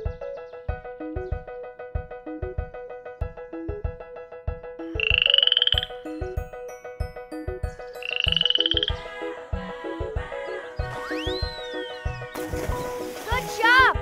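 A cartoon frog croaks in a steady repeating rhythm, with synthesized croaks and splashy effects over bright music while a voice cheers it on to swim in a lake.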